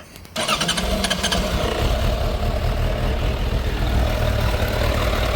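A 2002 Suzuki Bandit 1200S oil-cooled motorcycle with a cold engine and original exhaust cranks briefly, then catches and settles into a steady, even idle, close and loud, with no talk.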